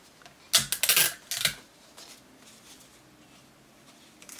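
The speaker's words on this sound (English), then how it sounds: "And then take the tape to hold the sides down." Tape being pulled and pressed down to hold the sides of a paper pocket for a homemade advent calendar, a short burst of crinkly tearing and rustling, then near quiet.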